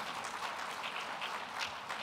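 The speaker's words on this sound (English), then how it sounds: "Please give them a round of applause" Applause from an audience at a civil rights summit plenary session, a soft, steady patter of many hands clapping at a distance with no voices over it.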